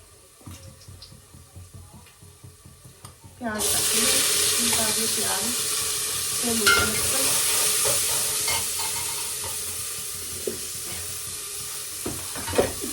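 Tempering spices with salt and chili hit hot oil, bursting into a loud, sudden sizzle partway through that stays steady and close, with a few utensil knocks and quiet speech before the sizzle starts.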